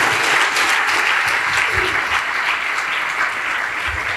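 A church congregation claps for the bishop during a Hindi sermon on the importance of prayer, a dense, steady round of applause filling the hall for about four seconds with a few voices mixed in.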